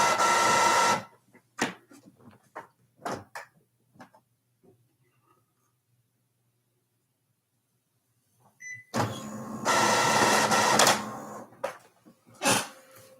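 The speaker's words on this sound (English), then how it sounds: "my printer is working overtime just to spit out a piece of paper here" A printer runs in two loud bursts of mechanical whirring, separated by sparse clicks and ticks and a long quiet stretch, heard close with no talking.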